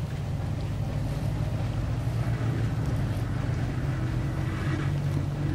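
A Zil truck engine in the off-road game SpinTires, a continuous low droning rumble at steady high revs with wind-like noise above, fairly loud and unbroken throughout.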